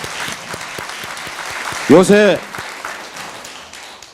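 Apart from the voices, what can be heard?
audience applause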